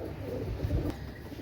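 Pakistani teddy pigeons coo softly, a low rolling burble rising briefly in the middle over a steady background hum, close and fairly faint.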